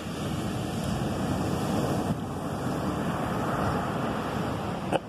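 Ocean waves wash steadily onto a beach in Venezuela, a continuous soft surf roar with some wind buffeting the microphone and a brief bump near the end.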